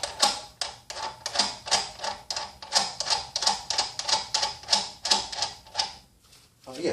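Hacksaw cutting through a bolt with a nut threaded on, a steady rhythmic rasp of about two strokes per second, close and fairly quiet, stopping near the end.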